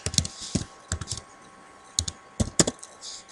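Quick bursts of keystrokes on a computer keyboard, clicky taps in short irregular clusters with brief pauses, close and clear without talk.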